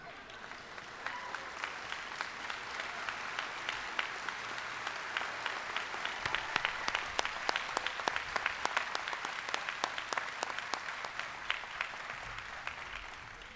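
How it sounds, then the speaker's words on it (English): Audience at a college commencement ceremony stands and applauds faculty, a broad sustained clapping from a large crowd that swells in the middle, with sharper individual claps standing out near the front. "Let's stand and give them a nice round of applause too,"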